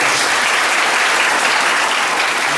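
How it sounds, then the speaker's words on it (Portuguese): Warm, sustained applause from a church congregation at a baptism service, a dense, steady wash of clapping filling the whole stretch with no voices above it. "dê uma calorosa salva de palmas"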